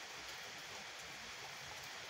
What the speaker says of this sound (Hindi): यहाँ कितनी बारिश हो रही है